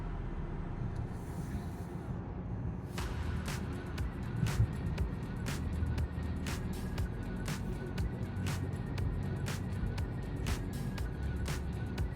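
Three-cylinder Buick Envista engine climbing a 2,300-foot mountain road with the throttle gently feathered, a steady low drone under road and cabin noise, plus a run of regular faint clicks in the second half.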